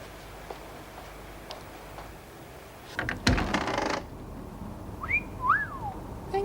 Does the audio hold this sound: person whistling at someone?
yes